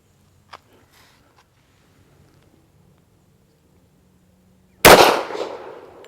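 A single sharp, loud shot from a Tisas M1911 A1 pistol firing 230 grain ammunition cracks after a quiet stretch and echoes as it fades.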